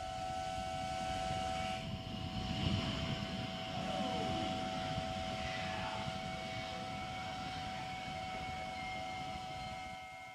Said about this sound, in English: let's watch and listen as the New Shepard goes through its final checks and revs up for 6th human flight